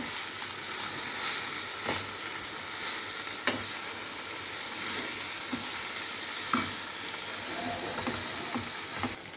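Vallarai greens with tamarind, tomato and small onions lightly sautéing in a pan, a soft continuous sizzle broken by a few sharp utensil taps and stirring scrapes.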